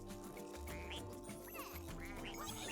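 Ducks quacking in the video game Rayman Legends: several nasal quacks repeat over a busy, steady game soundtrack, fairly faint in the mix.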